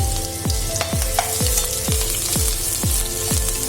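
Crushed ginger and garlic sizzle steadily in refined oil while a spoon scrapes the pan in a regular, rhythmic stirring beat.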